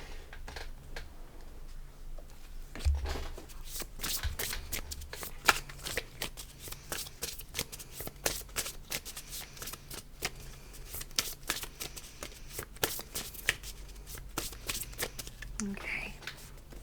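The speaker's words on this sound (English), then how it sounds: "I'm dropping cards." Tarot cards clatter and shuffle close by in a quiet room, with dense rapid riffles and soft slaps of falling cards running throughout as a fortune-telling reading gets underway.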